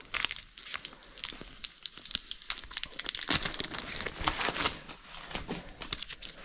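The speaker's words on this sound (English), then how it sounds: "We'll take all the packaging off" Plastic and foam packaging crinkles, rustles and tears close up as it is pulled off a Midea 50-pint dehumidifier with pump, in rapid irregular bursts with no talking.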